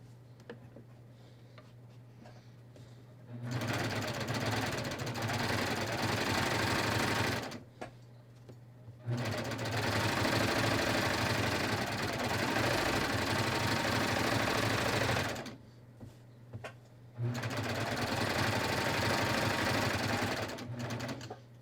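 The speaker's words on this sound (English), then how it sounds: "I'm going to stitch onto it" Sewing machine stitching a pocket onto the shorts under a skort, running in three long steady bursts with short quiet pauses between, close and alone without talk.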